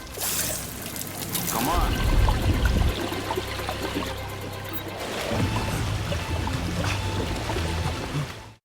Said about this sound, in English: water begins to flood the glass chamber